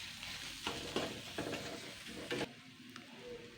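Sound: onion masala with kasuri methi frying and stirred in pan

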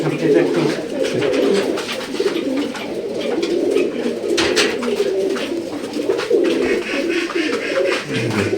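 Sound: Royal Teddy pigeons cooing at pigeon farm

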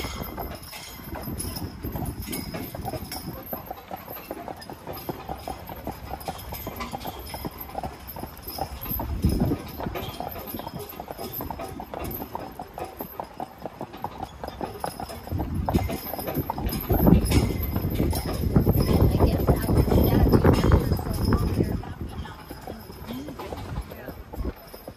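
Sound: Percheron horse team hooves clip-clopping, drawing a wagon

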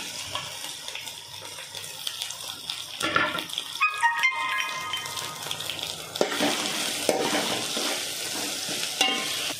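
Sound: frying ginger garlic paste with meal maker soya chunks

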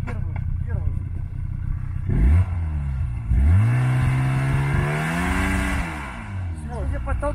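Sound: snowmobile engine revving while being pushed out of snow

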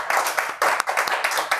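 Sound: applause

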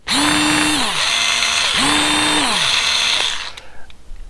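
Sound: cheap electric screwdriver driving screw into sheetrock

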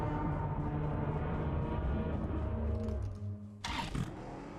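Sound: car engine revving in video game PUBG Mobile

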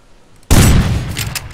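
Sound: gunfire in the video game Rust

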